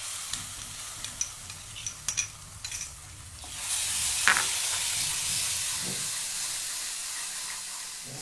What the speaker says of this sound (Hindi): इसे हम अच्छे से रोस्ट कर लेंगे।